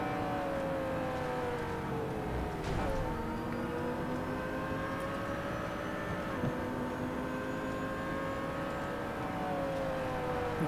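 Race cars in an Australasian endurance event lap a circuit, engines droning loudly and continuously with gliding pitch shifts as gears change, one close pass sweeping by amid the layered roar, with no talking.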